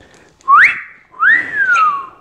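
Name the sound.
imitated wolf whistle at someone in the street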